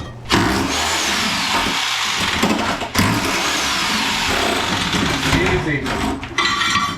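Rotary hammer breaking up bathroom floor tile during a remodel demolition: loud, continuous rattling hammering in sustained bursts with brief pauses, close and harsh, with broken tile clattering.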